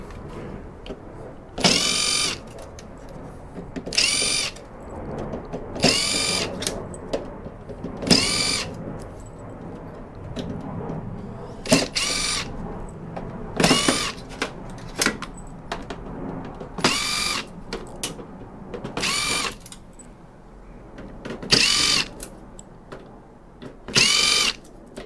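A power driver backs Torx screws out of scrap electronics in a dozen loud, short whirring bursts, each separated by a few seconds of quiet handling noise.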